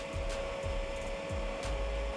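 A machine mixer specially designed for blending coconut char with starch and raw materials, giving a steady mechanical hum with a tonal whine and periodic low thumps, alone without talk.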